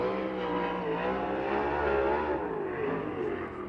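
A USAC race car at Circle City crosses the line to finish its first lap during Week of Indy. Its engine drones steadily and somewhat distant, with shifting revs and no speech over it.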